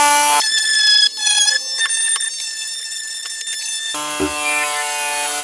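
A Parkside PFBS 12 C7 cordless mini grinder takes a burr off a piece of metal, giving a loud, close, steady high-pitched whine that runs for several seconds with a shift in tone toward the end.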